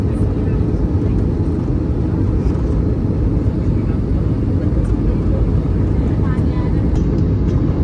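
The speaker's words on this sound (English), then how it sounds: "Plane has already entered the valley and it's flying over it" Inside a Nepal Airlines A320 descending over the Kathmandu valley before landing, a dense, steady cabin roar of engines and airflow fills the space, constant and loud throughout.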